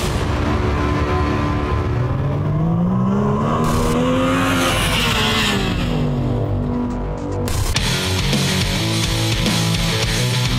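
A 2016 Yamaha YXZ1000R sport side-by-side with a high-performance three-cylinder engine revs hard, its loud, close pitch climbing and falling in repeated sweeps before a sharp burst near the end, with no talking.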